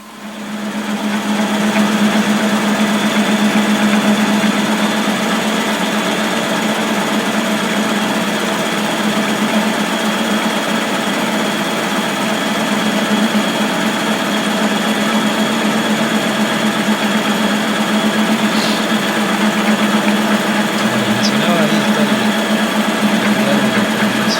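A lathe turning a flat pulley at 750 rpm with steady feed, a continuous loud mechanical hum and whine running unbroken and close throughout.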